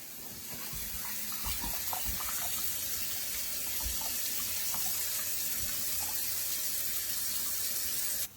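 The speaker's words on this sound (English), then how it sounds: "I will cover them with water and soak them for just a little while" Tap water runs steadily into a sink to cover and soak foraged wild greens, a continuous close rushing splash with no one speaking.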